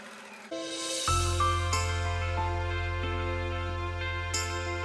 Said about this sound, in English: we're just going to do straight stitch, and I'm just going to go over the top of the pins